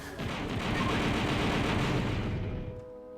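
Blaster fire from the Star Wars: Shadows of the Empire video game, a dense, continuous barrage of rapid shots that holds loud and steady for almost three seconds before easing off near the end.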